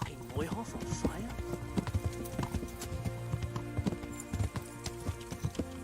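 Horse hooves clip-clop steadily in the medieval video game Kingdom Come, with a rhythmic run of close thuds over low background music and scattered game ambience.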